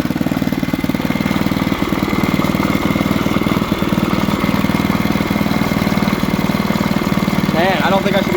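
A mini bike engine idles with its fuel turned off, a loud, close, steady rapid chugging that keeps running throughout, with a few brief sounds near the end.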